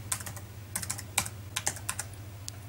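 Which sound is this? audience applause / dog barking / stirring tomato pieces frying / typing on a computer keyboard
typing on a computer keyboard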